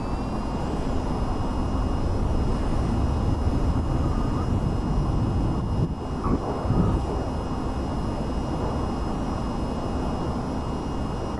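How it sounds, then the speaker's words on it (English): A VTOL jet lifting off vertically in the VR flight game VTOL VR, a steady loud roar of engine noise that holds constant throughout, with a brief dip and thump midway. "I kind of did a vertical takeoff"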